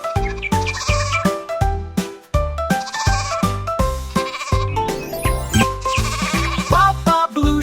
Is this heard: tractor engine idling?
no